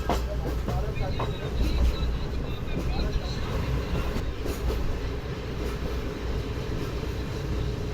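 The Pak Business Express runs through Lodhran Junction station with a loud, continuous rumble and rhythmic rail clatter, faint voices mixed in underneath.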